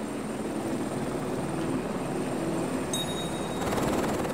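A rescue helicopter flies high in the Himalaya at about 6,400 metres. Its rotor and engine give a steady, continuous drone that stays loud and even throughout, with a faint brief tone partway through.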